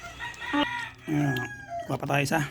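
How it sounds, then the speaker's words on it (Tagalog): A neighbour's rooster and chickens crow and cluck loudly nearby in a few drawn-out calls, with a brief spoken line mixed in. "Yung manok dito sa kapitbahay at maingay"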